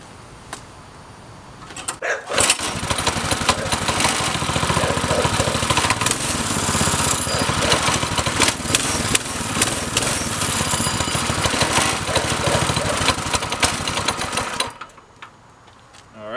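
A stock, unmodified small engine with its original exhaust and header runs at a loud, steady, buzzy drone for about thirteen seconds after a brief quiet start, then cuts off near the end.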